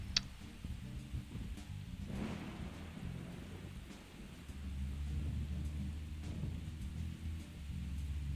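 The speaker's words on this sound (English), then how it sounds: "but since it's raining" Rain falling steadily with low rolling thunder inside the video game Deadly Premonition, a soft continuous wash of drops under a deep rumble that swells toward the end.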